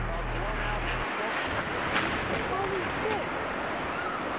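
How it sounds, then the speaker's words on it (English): A huge explosion as United Airlines Flight 175 strikes the South Tower of the World Trade Center, a loud sustained roaring rumble with a heavy low burst near the start, under excited voices. "There is an explosion. The explosion is incredible!"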